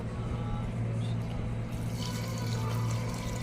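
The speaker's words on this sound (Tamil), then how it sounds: "அதுக்கப்புறம் 2 டம்ளருக்கு 5 டம்ளர் அளவு நான் தண்ணி எடுத்து வச்சுருக்கேன். அதை இதோட நான் ஊற்றுறேன்." Water poured from a tumbler into a pressure cooker for mushroom biryani, a steady close splashing wash with a low hum running underneath throughout.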